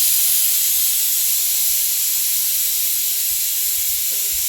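A pressure cooker whistle venting steam while food cooks, a loud, steady hiss that holds without a break from start to finish, with no voices.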